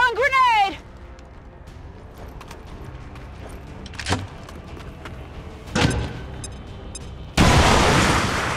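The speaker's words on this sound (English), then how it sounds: "Throwing grenade!" A grenade blast in the turn-based strategy game XCOM 2: War of the Chosen, a sudden loud burst of broadband noise that rushes in and holds near the end, following a few scattered thuds and a short whooshing sweep at the start.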